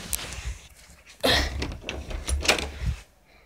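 A door at a house is opened with a sudden clunk, followed by shuffling footsteps and light knocks and thuds nearby before things settle back to quiet, with no voices.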